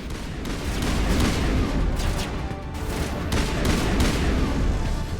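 Dense bursts of gunfire and booming impacts from a combat firefight in the sci-fi video game Mass Effect, loud and continuous with sharp rapid shots layered over rumbling blasts.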